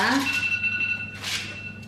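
A phone rings in a home kitchen with a bright electronic tone held across the clip, moderately loud and close, over faint background noise.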